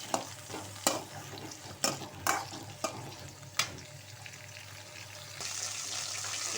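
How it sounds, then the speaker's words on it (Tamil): Ingredients sautéing in a pan for mutton kuzhambu, a soft steady sizzle punctuated by several distinct spoon knocks and scrapes, with the frying swelling louder near the end. "இது நல்லா வதக்கிக்கலாம்"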